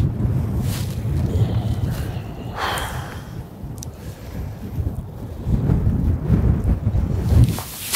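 Wind blowing outdoors, a continuous low rumbling buffet that rises and falls over several seconds, with a few faint thin knocks above it.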